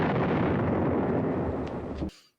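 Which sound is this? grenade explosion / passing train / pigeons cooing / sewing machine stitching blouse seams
grenade explosion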